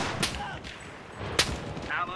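Gunfire in the WW2 shooter game Enlisted, two sharp distant cracks about a second apart with faint game ambience and a voice speaking under them.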